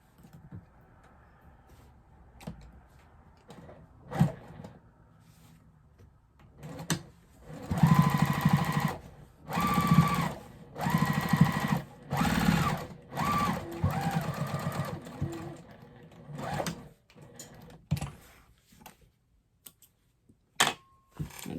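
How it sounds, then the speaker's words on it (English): A sewing machine top stitches a quilted tote bag made from jelly roll strips, running in close bursts of rapid stitching with short pauses and clicks between runs. "I'm just gonna top stitch and be done."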